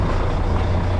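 A rental ATV quad's engine idles with a steady, loud low rumble right after the key is turned, close up and continuous with no talk, on an island road on Paros, Greece.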